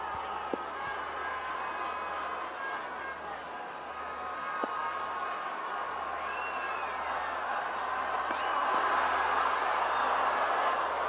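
A cricket stadium crowd at a Lahore Qalandars versus Peshawar Zalmi match keeps up a broad, continuous roar that swells toward the end, with a commentator speaking over it and faint whistles rising through the noise.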